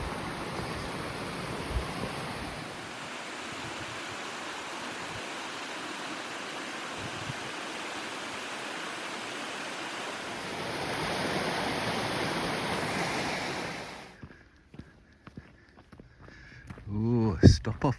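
Fast-flowing stream on the Camino de Santiago between Roncesvalles and Larrasoaña, a steady rushing wash of water that swells and then fades away, followed by quieter outdoor sounds and brief voice.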